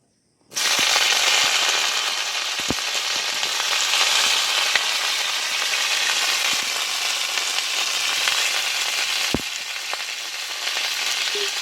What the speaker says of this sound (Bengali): কপিটা এবার ভেজে নেব।